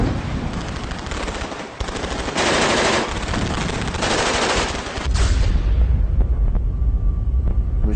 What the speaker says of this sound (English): Machine gun just opened up.